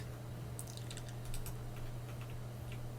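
Soft, quiet keystrokes on a computer keyboard, a few scattered clicks in short bursts during a ROS robotics setup in a terminal, sitting over a steady low electrical hum.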